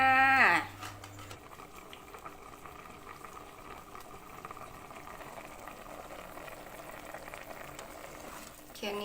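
Pork simmering in a pot of boiling water, a steady soft bubbling hiss that runs continuously after a brief louder moment at the start.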